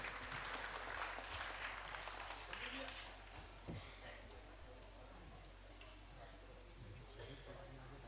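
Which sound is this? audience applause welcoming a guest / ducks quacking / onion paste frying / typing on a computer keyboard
audience applause welcoming a guest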